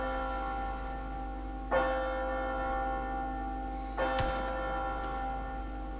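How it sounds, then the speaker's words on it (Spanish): A clock tower bell in Resident Evil 4 Remake strikes twice, a few seconds apart. Each toll rings out with a bright metallic onset and a lingering tone over a low steady hum. "La campana del reloj."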